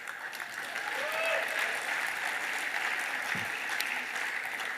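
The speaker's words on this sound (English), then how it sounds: "Everybody clap for Brian." Steady applause from an audience, a dense wash of clapping that holds for several seconds without pause.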